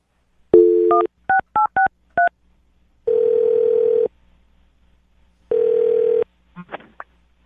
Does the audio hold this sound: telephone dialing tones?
yes